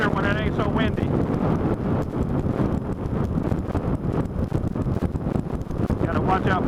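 Strong gusting wind rushes over the rider of a Yamaha FZ-07 motorcycle, producing a steady, close, blustery roar with brief spoken remarks cutting through at the start and end.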